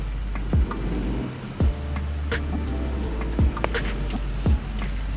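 Rain falls steadily at Warangal Fort, a continuous wash of patter with a few sharp drip taps standing out, heard without any talking.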